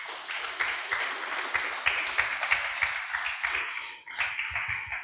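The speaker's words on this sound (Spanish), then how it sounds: "Dale un fuerte aplauso al Señor," A church congregation claps in praise, giving a steady, rhythmic applause that fills the room throughout, somewhat distant and evenly loud.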